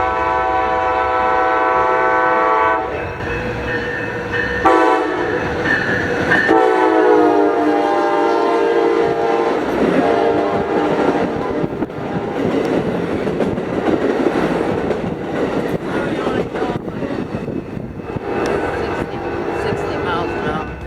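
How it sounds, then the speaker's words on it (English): Amtrak train 586, led by an SC44 Charger locomotive, passes Carlsbad Village Station. It sounds a loud, sustained multi-tone horn, then a steady rumble and rhythmic wheel clatter roll by close up. "Amtrak 586 will roll on by with SC44 Charger 2115 leading"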